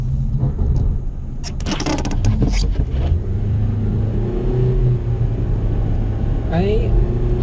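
A manual transmission car is held in first gear on snow while its engine revs up and holds a steady mid-pitched rumbling drone. Someone talks over it.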